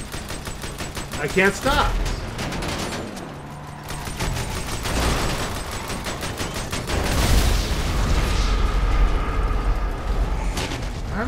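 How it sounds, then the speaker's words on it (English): Machine gun fire and a vehicle exploding in the video game GTA 5 Online: dense, rapid bursts of shots and a rumbling blast, with a voice speaking briefly over the game action. "I machine gunned him till he blew up, and then his explosion killed me"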